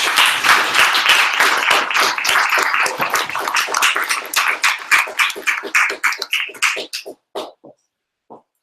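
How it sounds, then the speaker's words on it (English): Audience applause for speaker Claire Fryer at a Manchester entrepreneur social event, a dense burst of many hands clapping loudly that thins out into scattered claps and fades to silence after about seven seconds. "please give a warm, wondering round of applause to Claire Fire"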